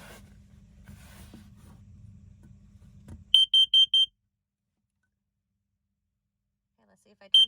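An RV carbon monoxide alarm gives four sharp, loud, high-pitched beeps during a test, then a long silence before another beep begins; a voice talks quietly beforehand.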